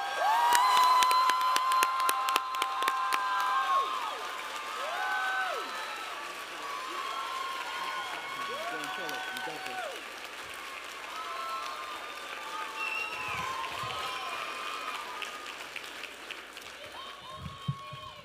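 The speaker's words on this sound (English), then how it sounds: "So I need y'all to give a round of applause for Xavier de Janon Torres." Audience applause and cheering fill a college commencement ceremony at Hampshire College in 2016, steady dense clapping with scattered shouts and whoops, voices mixed in throughout, easing slightly but sustained to the end.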